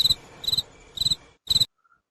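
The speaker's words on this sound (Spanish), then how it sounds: "Un grillo se escuchó." A cricket chirps close and loud in four evenly spaced trilled pulses, then falls silent.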